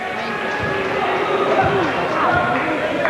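A sellout crowd at an NJCAA Division III Region XIII college basketball championship game fills the gym with a steady, loud murmur of overlapping voices and chatter, with a few dull thumps underneath.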